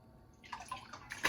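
Cold tap water splashes and trickles briefly, quiet and close, like a small stream running over purple hull peas being rinsed.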